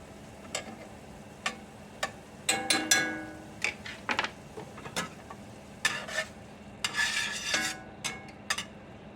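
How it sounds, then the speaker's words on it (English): Butter goes into a pan for chipped beef on toast: scattered sharp clanks and scrapes of a utensil against cookware over a low background sizzle, close and irregular. "I'm going to put my butter down"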